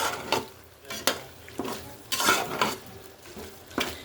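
Ginger garlic paste, four spoonfuls, stirred and fried in a large pot for prawn biryani: repeated spoon scrapes and knocks against metal, several sharp strokes over a soft sizzle, with no talking.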